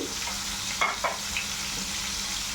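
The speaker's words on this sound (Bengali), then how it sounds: "এখন আমি হালকা করে চিংড়ি মাছগুলো ভেজে নেব।" Prawns fry lightly in oil with a faint, steady sizzle, broken by a couple of small soft pops and stirring sounds.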